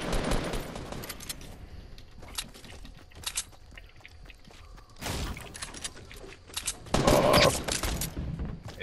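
Video game gunfire in a close-quarters shootout: scattered shots and bursts cut through steady game ambience, with a louder cluster of rapid firing near the end.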